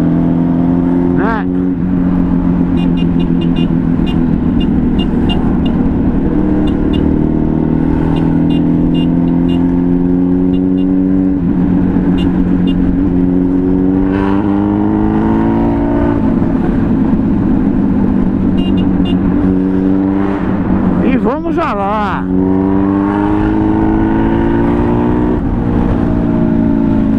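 Heavy traffic on the Marginal highway in São Paulo, heard from a moving motorcycle: a continuous close engine drone with shifting pitch, vehicles passing and occasional revving, with a voice now and then.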